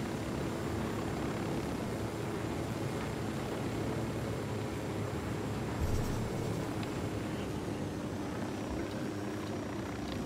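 A helicopter from the video game Ghost Recon Wildlands drones steadily with a faint, continuous rotor and engine roar throughout, with no voices.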